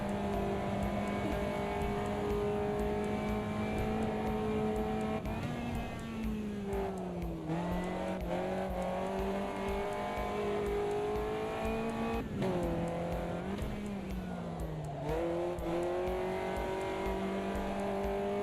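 A race car engine in a racing video game drones loudly and continuously as the tyres are warmed up, its pitch dipping and rising with repeated gear changes and revs.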